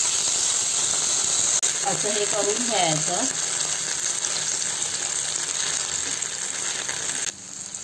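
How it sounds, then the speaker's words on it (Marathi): Thin potato-based pizza batter sizzles on a hot tawa griddle with a steady hiss throughout, while someone speaks briefly over it partway through. "आता आपण हे बॅटर ह्या गरम तव्यामध्ये पोळ्यासारखं करून घेऊ"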